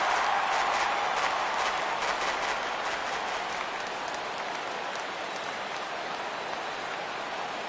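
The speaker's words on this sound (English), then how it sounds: "Well, the rain is coming down hard here." Steady hiss of hard rain falling in the baseball video game MLB The Show 17, a dense continuous wash that fades slightly over the clip, with no commentary heard.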